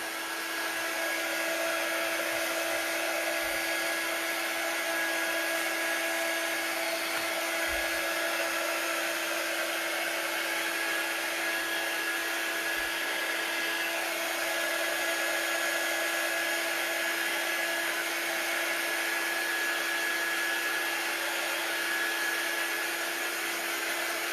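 A hair dryer blowing steadily and close for over twenty seconds while drying wet, goopy wall decor, with a constant whine and a few faint bumps underneath; no talking.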